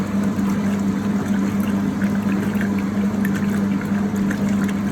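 A Kelvinator Model 269 washing machine washes towels on high, with a steady hum and a continuous churning, rolling wash of water, loud and close, with no talking.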